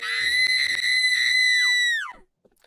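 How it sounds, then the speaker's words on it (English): A stock shriek sound effect from a dubbed Gacha animation, a loud, sustained high-pitched scream lasting about two seconds that holds steady and then sweeps downward as it cuts off. "That is a shriek."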